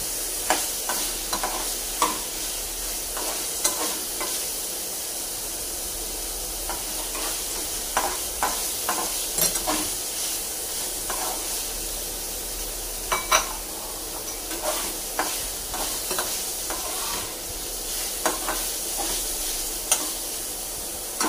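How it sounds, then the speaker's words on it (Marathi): Paneer frying in a pan for butter paneer, a steady close sizzle broken by frequent clinks and scrapes of stirring against the pan, with no voices. "तर पनीर आपलं फ्राय होते आहे."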